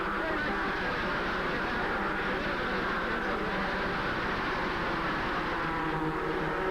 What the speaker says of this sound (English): A very noisy infield here at Dover.